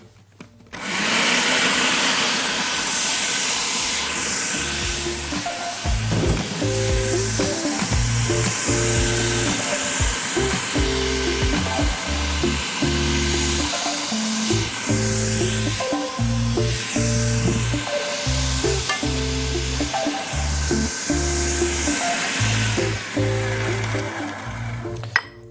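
A food processor grinds two cups of oats at a loud, steady whir. The motor pitch wavers and churns as the oats break down, and the noise holds almost without pause for the full length.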